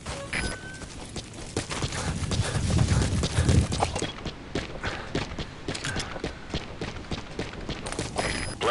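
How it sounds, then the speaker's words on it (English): Horse hooves clip-clop in a steady, rapid rhythm on open ground in the video game Metal Gear Solid V: The Phantom Pain, clear and close for the whole stretch. "Use your horse."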